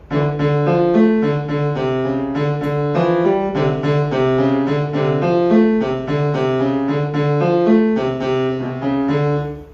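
A repeating piano bass line plays a steady walking pattern, loud and close, with no talking.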